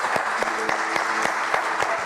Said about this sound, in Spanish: para quien pido un cálido aplauso